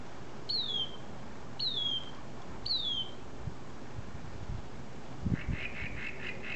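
A small bird gives three evenly spaced, downward-sliding chirps, then a different rapid series of short repeated notes follows after a low thump, all over quiet outdoor background.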